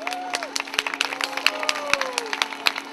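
Scattered audience clapping during a lecture-style talk: a loose patter of hand claps with a few sharper, louder claps standing out over a steady low hum in the room.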